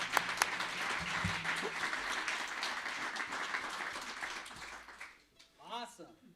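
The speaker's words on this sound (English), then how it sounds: "big round of applause for the Armstrong Irish Dance Academy." Audience applause for the Armstrong Irish Dance Academy at a live show, a dense wash of clapping that holds steady for about five seconds, then thins out as a voice starts speaking near the end.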